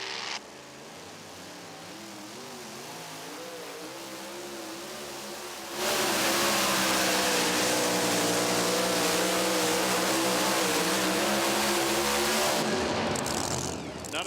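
The Midnight Revenger, a pulling tractor driven by Jared Nelson of Altamont, Illinois, roars through a run at the NTPA Super Nationals in Tomah, Wisconsin. The engine holds a loud, sustained howl, surges even louder partway through, then cuts off abruptly near the end.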